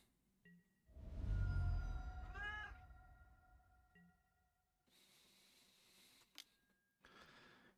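A house cat meowing indoors, one loud drawn-out call followed by quieter sounds, close to the microphone with no talking.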